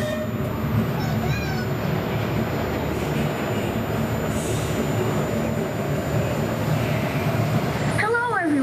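Steady rumble and clatter of the Grand Sierra Scenic Railroad steam train at Knott's Berry Farm rolling along, a continuous close mechanical roar with brief squealing tones and a recorded announcement voice over it.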